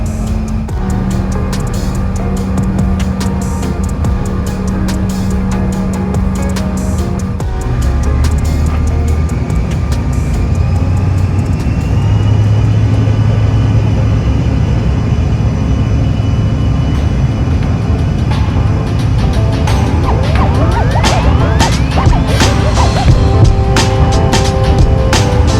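Inside the cabin of a Delta Connection CRJ 900 regional jet, a loud engine roar builds and rises in pitch during the takeoff run, sustained with rattling and rumble throughout.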